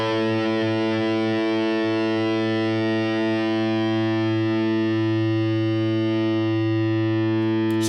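A distorted electric guitar tone played through the BIAS FX 2 Mobile amp app, one sustained chord ringing steadily and loudly for several seconds with rich harmonics and a long, slowly fading tail, alone without talk.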